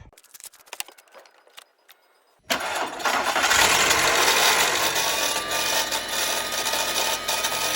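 A Volkswagen New Beetle under restoration, with antifreeze freshly added, is heard after a few clicks and quiet handling sounds; its engine cranks and catches suddenly, then settles into a loud, steady idle close by.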